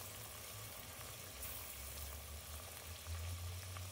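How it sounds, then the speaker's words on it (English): Garlic and onion fry in a pan while cooking spaghetti sauce, giving a steady, close sizzle with low rumbling underneath and no talk. "And then we will cook the garlic for about 10 seconds."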